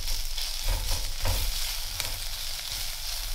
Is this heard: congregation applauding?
no